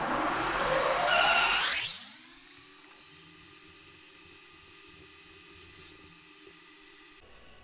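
Drill bit boring into a workpiece on a lathe, a rising whine that settles into a steady high-pitched spinning tone, close and unbroken, then cutting off abruptly.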